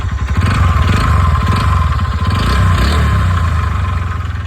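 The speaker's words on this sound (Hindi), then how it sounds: "इसके इंजन से बहुत ज़्यादा साउंड आ रहा था" A TVS Ntorq 125 BS6 scooter engine runs with an abnormal, excessive noise, a loud, close, rapidly pulsing clatter over a continuous drone throughout.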